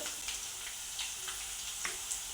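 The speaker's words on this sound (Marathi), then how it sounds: "याला चांगलं चांगलं तेल गरम झालेलं आहे त्याच्यामध्ये कडकडीत आपण हे चांगलं भाजून घ्यायचं आहे" Vegetables such as carrot sizzling in hot oil in a pan for veg fried rice, a steady, quiet crackling hiss with faint sharper pops scattered through, and no talking.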